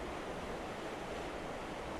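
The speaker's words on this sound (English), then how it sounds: "Now that's a waterfall." A waterfall on the Pigeon River, heard as a steady, dense roar of rushing water that fills the whole sound without a break.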